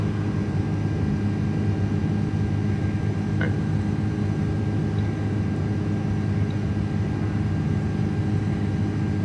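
Airbus A330 engines at climb thrust in Microsoft Flight Simulator 2024 give a steady, loud, continuous drone with a constant low hum and no talking.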